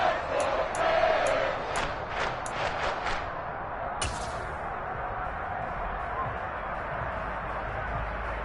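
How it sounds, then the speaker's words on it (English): Football stadium crowd at a Chiefs vs. Dolphins game, a broad sustained roar of cheering that swells near the start, with a few sharp whistles or shouts early on before settling into a steady wash of noise. "Crowd getting in it a bit already"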